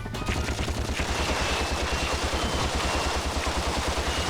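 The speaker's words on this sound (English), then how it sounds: "The weapon upgrade that we get with the Gold Blaster. The bullets now bounce everywhere." The Gold Blaster in Ratchet & Clank fires bouncing shots in a rapid, evenly spaced stream of pulses that runs steadily and loudly for the whole stretch, with no talk.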